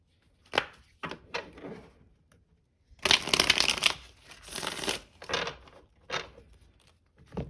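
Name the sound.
shuffling tarot cards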